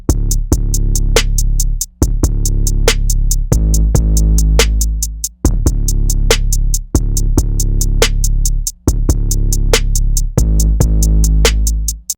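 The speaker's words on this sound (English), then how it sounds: "you combine the kick with the 808, it make it slap just a little bit harder" A hip-hop beat of a punchy kick drum layered with a deep 808 bass pattern, the pair hitting together in a steady, loud repeating loop with crisp hi-hats ticking above, no voices.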